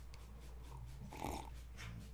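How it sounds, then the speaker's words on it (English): A dog wrestling around in the background, heard as muffled low scuffling, snorts and growl-like breathy noises, with a brief louder burst in the middle. "sorry if you hear something, the dog's wrestling around in the back."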